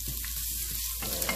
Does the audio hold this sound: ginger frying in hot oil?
yes